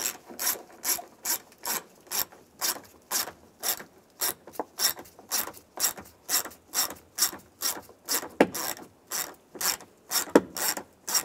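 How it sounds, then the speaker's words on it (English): A hand ratchet with a 10 mm socket backs out bolts on a 2002-2008 Dodge Ram 1500 sun visor, giving a steady series of crisp clicking strokes, close and fairly quiet, with no talking. "using a 10 millimeter socket, I'll take these two bolts out"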